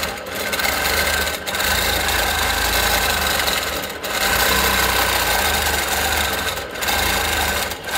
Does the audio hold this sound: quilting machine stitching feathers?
yes